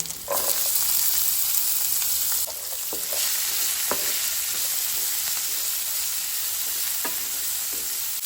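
Chopped onion, garlic and green chili frying in hot oil, giving a steady close sizzle with occasional scrapes and taps of a stirring spoon, no talk.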